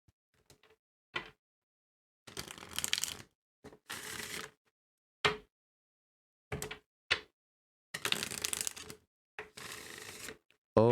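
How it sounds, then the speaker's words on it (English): An oracle card deck is shuffled in several quick bursts of riffling and flicking, close up, with short pauses between each round. "I love the way that this deck shuffles"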